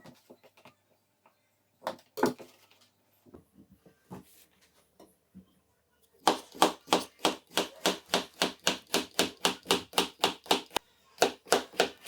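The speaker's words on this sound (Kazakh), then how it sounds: "Сырымызды осылай етіп, төрт-бұрышты етіп тураймыз." A knife chops cheese into small squares on a cutting board while making the Kazakh salad "Alatau". A few scattered taps and handling sounds lead into a fast, steady run of crisp, close chops.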